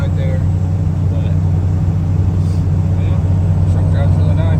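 A 1998 Dodge Cummins 24-valve diesel pickup driving, with a loud, steady low engine rumble and road noise heard from inside the cab.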